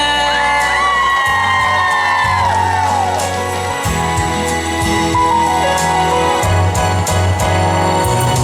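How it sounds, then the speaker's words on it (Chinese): At an outdoor opening-night concert for the Baihe lotus festival, the audience whoops, cheers and shouts with excitement, a loud mass of voices that carries on over the stage sound. "给自己一个掌声加尖叫声"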